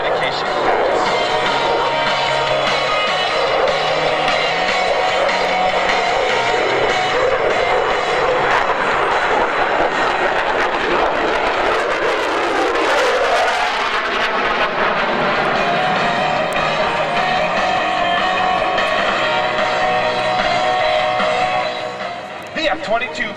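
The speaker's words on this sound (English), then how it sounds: "F-22 Raptor proudly presents the dedication pass." An F-22 Raptor fighter jet roars through a dedication pass at the 2016 Cleveland Airshow, a loud sustained engine blast with a sweeping pitch shift as it passes overhead, under an announcer's voice.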